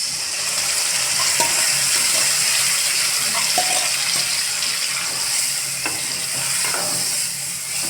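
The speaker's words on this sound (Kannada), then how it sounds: "ಸರಿಯಾಗಿ ಕೈಯಾಡಿಸ್ಕೊಡ್ರಿ." Boiled dal is stirred in a hot pan for dal palak, giving a steady close sizzle and bubbling with occasional soft scrapes of the spoon.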